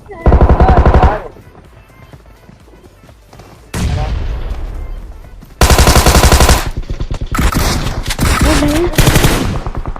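Bursts of M4 rifle fire in a mobile battle-royale shooter, loud and close, with a long rattling volley, a pause, then repeated rapid automatic bursts and distant shots.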